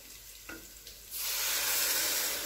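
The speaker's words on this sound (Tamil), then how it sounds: "கொஞ்சோண்டு தண்ணி விட்டுப்போம்." Water is poured into a pan of sizzling spiced masala with chilli and coriander powder for a cooker biryani, a few faint clinks and then a sudden loud, steady sizzling hiss close by.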